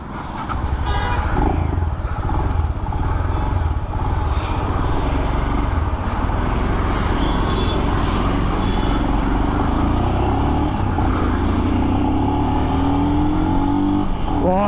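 A Royal Enfield Scram 440 motorcycle accelerates in third gear, its engine droning loud and continuous with heavy wind rush, heard from the rider's position throughout.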